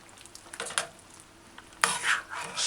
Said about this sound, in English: What I like to do is lift and fold and then stir.